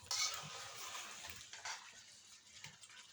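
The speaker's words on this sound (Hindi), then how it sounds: "थोड़ा सा पानी डाला है मैंने प्याज को मिक्स करने के लिए।" Water is poured into an onion mixture in a cooking pot, a soft, brief gush that settles into a faint trickle and splashing nearby.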